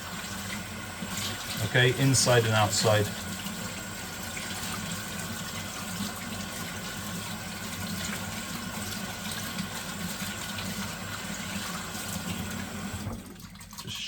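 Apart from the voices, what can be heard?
rinsing a respirator mask under tap water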